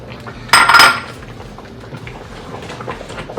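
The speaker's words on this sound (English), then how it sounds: "This shrimps has been deveined, so I will add our shrimps at this time." A brief clatter of metal and utensils as deveined shrimps go into a pot of Nigerian ogbono soup, one bright clinking burst near the start, then a quiet kitchen background.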